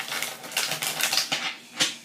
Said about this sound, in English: I don't know why we're shuffling.